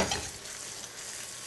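Ingredients sizzle steadily in a hot pan as they are pushed toward the edge and pulled back, a close, dense frying hiss with soft scraping and no voice.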